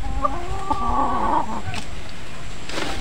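A Kelso stag rooster, offspring of a Kabakard, clucks nearby in a few loud, throaty calls that fade toward the end against a faint outdoor background.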